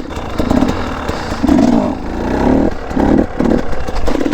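A dirt bike engine revs in first gear during a wheelie attempt, its motor surging and falling in several loud, close bursts over a steady rumbling idle.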